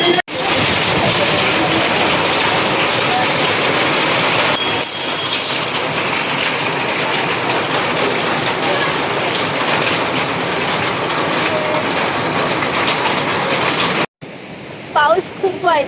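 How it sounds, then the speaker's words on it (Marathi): Heavy rain and a waterfall near a temple in a valley at Daryai Mata, Nashik, pour as a loud, steady broadband roar filling the whole clip, briefly cut near the end, while a voice talks over it. "पाऊस खूप वाढला आहे. त्याचबरोबर आता हा धबधबा बघा."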